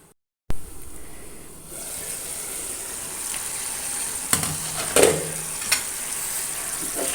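Capsicum masala frying in a pan with soft sizzling and occasional stirring clinks, steady and close, with a few louder knocks of utensil against pan.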